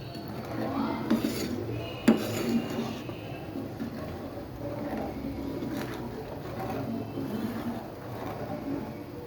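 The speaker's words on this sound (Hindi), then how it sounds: "और इसको इस तरह से हल्के हल्के से आपने हिलाते रहना है जब तक कि ये दूध इसमें से खुश्क ना हो जाए" A spoon stirs suji halwa in a pan over a low flame, scraping and clinking softly against the metal in an uneven rhythm, close but quiet.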